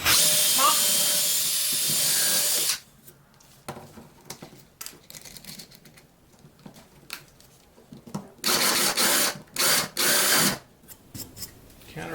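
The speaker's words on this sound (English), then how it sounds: "I'm going to countersink them so they sit flush" Power drill countersinking holes for wood screws in a shop-built adjustable wood rack, a loud steady whir at the start followed by several short, separate bursts of drilling with quieter handling noise between them.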